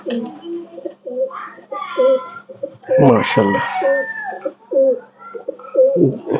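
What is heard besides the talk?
Kuwaiti imported pigeons cooing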